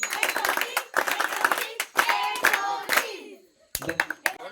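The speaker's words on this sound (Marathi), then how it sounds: "टाळ्या वाजवून 3 टाळ्या" Audience at a village Ganesh festival celebration clapping in bursts, sharp overlapping hand claps in three rounds with a short pause before the last, close and lively.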